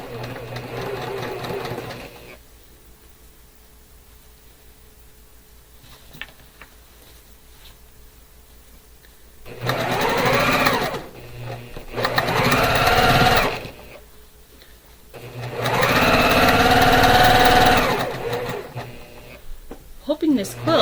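A domestic sewing machine chain pieces quilt blocks, running in three loud bursts of a few seconds each, separated by quieter stretches of handling and light mechanical ticking. A person talks at the start.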